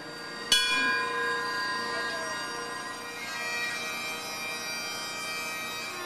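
A single memorial bell stroke rung by fire companies at a 9/11 ceremony in the Town of Ulster, a sharp strike followed by a long, ringing metallic decay that lingers over quiet outdoor ambience.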